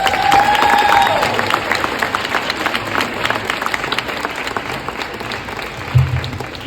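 An audience breaks into steady applause to welcome a speaker onto the stage, a dense, even clapping that holds for several seconds with a brief louder thump near the end.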